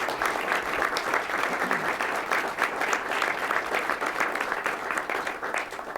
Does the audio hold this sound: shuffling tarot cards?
no